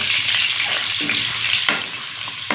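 Chopped onion frying in hot ghee, a steady loud sizzle with a few stirring knocks, close up, highway hotel mixed dal fry being cooked.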